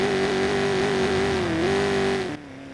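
A car engine idles and revs in the video game Watch Dogs, a steady droning hum with a slight pitch wobble that cuts off abruptly and drops to a lower idle near the end.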